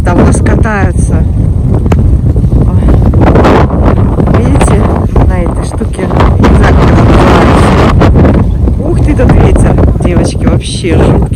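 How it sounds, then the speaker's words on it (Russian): Strong wind by a frozen bay buffets the microphone with heavy, low rumbling gusts that swell and ease throughout, while a person talks intermittently through the blustering noise. "тут очень сильный ветер"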